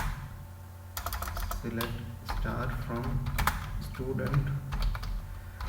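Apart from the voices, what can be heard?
typing an SQL query on a computer keyboard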